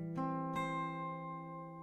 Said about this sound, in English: The next chord will be G with B in the bass,